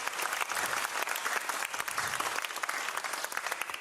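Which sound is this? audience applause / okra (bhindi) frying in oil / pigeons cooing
audience applause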